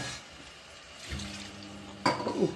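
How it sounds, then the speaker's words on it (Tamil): Washed rice and dal tip into a pot for masala kichadi with a faint wet, watery rush, then a sharper splash and clatter near the end. "இப்போ இந்த அரிசி கலைஞ்ச அரிசியும் பருப்பையும் போட்டுடுங்க."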